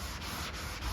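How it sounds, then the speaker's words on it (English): A hand block sanding polyester primer with a black guide coat makes a steady, close, raspy rubbing sound throughout the brief moment. "I keep sanding until the black guide coat is gone"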